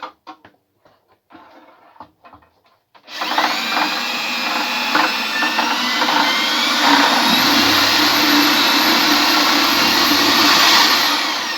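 A power mixer stirring a sugar wash, starting after a few quiet knocks and then running loud and steady with a whining motor drone that continues to the end.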